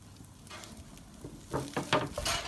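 Onions cooking in a Dutch oven, with a soft sizzle that gives way to several quick stirring scrapes and crackles near the end, close by and with nobody speaking.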